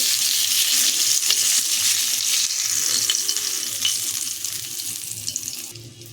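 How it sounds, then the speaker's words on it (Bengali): Pomfret fish frying in hot oil in a pan gives a steady, close sizzling hiss throughout, easing slightly toward the end, with no voices. "এপিঠ উপিঠ দুপিঠ ভাজা হয়ে গেলে আমরা এই ভাজা মাছটাকে নিয়ে"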